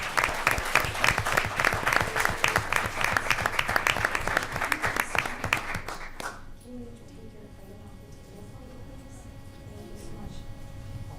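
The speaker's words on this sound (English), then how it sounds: "So give them a nice big round of applause." A school board meeting audience gives a round of applause for students, dense clapping for about six seconds that then stops, leaving quiet room tone.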